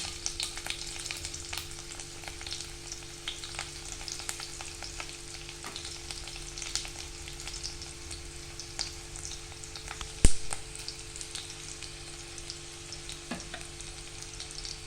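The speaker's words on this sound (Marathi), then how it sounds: "आता आपण त्यात लसूण टाकून घेऊया." Crushed garlic sizzles and crackles in hot oil for a dal palak tempering, a steady close frying hiss with small pops and one sharp clink partway through, no voices.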